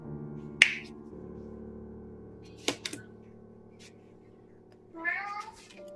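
A human voice imitates a cat's meow, a short nasal whine near the end, set apart from a sharp snap-like click and a few quieter clicks over a soft low hum.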